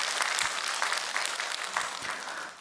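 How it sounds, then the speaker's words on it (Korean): A church congregation of women members claps after finishing kimchi-making, giving a dense, steady burst of applause that lasts a few seconds without a voice over it. "여러분 박수 한번 하십시다"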